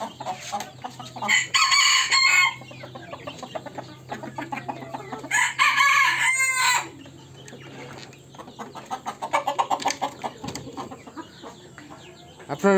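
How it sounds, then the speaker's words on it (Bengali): Native free-range chickens cluck on a small poultry farm, and a rooster crows loudly and close twice, with softer clucking continuing between the crows. "এখানে আছে 2 পিস দেশি মুরগি।"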